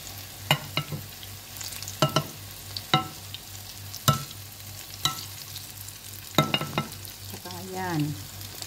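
Banana and sweet potato pieces for camote-cue cooking in a pan, with steady soft frying sizzle under repeated sharp clacks of a utensil stirring and scraping against the pan.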